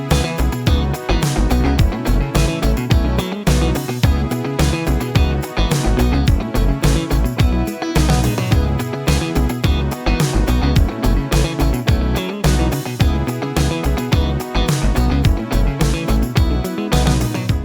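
A funky rhythm guitar part with extra chord changes sits in a full band mix, with punchy drums and bass keeping a busy, steady groove for the whole stretch, with no voices.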